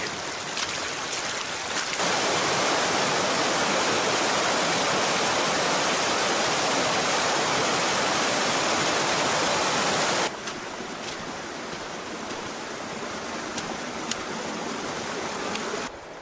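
Water runs in a creek flowing along a hiking track in Nelson Lakes National Park, New Zealand, a loud steady rushing wash close by that softens slightly toward the end.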